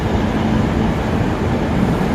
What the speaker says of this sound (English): Just a quick train video. Newcastle interchange.